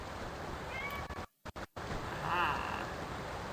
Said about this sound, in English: You guys hear her meowing.